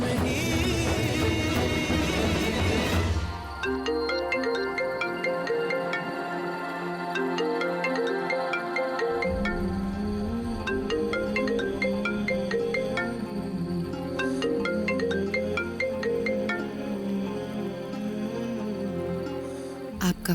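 A phone ringtone plays as a bright, repeating melodic chime, loud and steady throughout, after a brief burst of music at the start.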